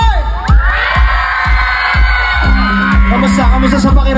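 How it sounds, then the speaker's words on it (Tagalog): A loud concert crowd cheers and whoops at Coke Studio, with a sustained roar of many voices over steady pounding bass beats from the stage music. "Isang malakas na sigawan naman para sa lahat na nag-enjoy ngayong gabi!"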